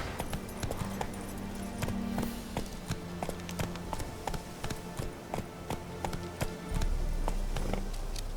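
Horse hooves clip-clop at a run in The Witcher 3, a steady rapid patter of hoofbeats carrying through the whole stretch at moderate level over a low game ambience.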